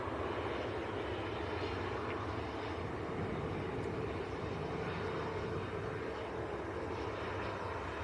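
An airplane taking off at Manchester Airport gives a steady, loud, broadband engine roar that holds throughout, with no talk over it.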